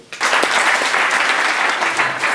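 Dense, steady audience applause at a panel discussion on entrepreneurship in Europe begins abruptly and carries on evenly at close range with no talk over it.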